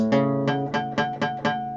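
A guitar sounds six quick, muddy strums in a steady rhythm, with the fourth string buzzing along as a finger catches it, played close and alone.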